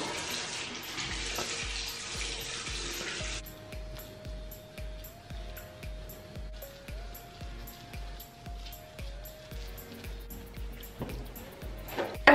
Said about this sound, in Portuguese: Vou enxaguar, jogar um pouco de água.